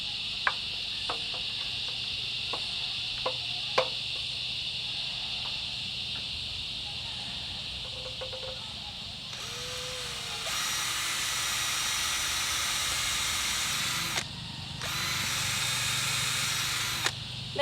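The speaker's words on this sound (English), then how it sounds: "Make sure you drill right to the very end so your bolts are secure as possible" An electric drill gives a high, steady whine with a few sharp clicks, then a louder grinding burst as it drills a hole for several seconds, pauses briefly, and resumes.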